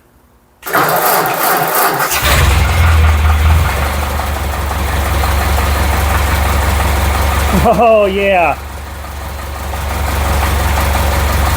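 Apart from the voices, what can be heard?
old tractor engine starting and idling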